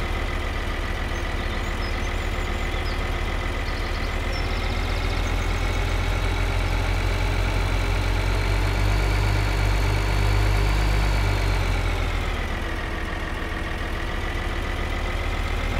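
A tractor engine labors steadily uphill in Farming Simulator 2013, a loud continuous low drone with a faint rise and dip in pitch, running alone without any talk.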